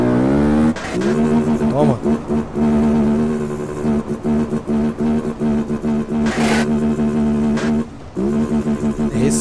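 A Titan 300 motorcycle in GTA San Andreas revs loudly and repeatedly through gear changes, the engine note climbing and dropping in rhythmic bursts close up, with someone briefly speaking over it.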